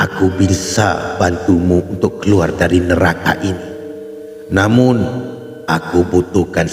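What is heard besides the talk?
No distinct noise like a dog, phone or traffic.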